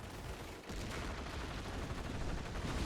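Firestorm strike in a video game, a loud sustained roar of gunfire and explosions with a brief dip before the barrage resumes and holds steady.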